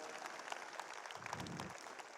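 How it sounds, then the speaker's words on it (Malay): Audience applause at a university vice-chancellor's address ceremony, a short burst of steady, dense clapping from a hall crowd at moderate distance with no talk over it. "Beri tepukan"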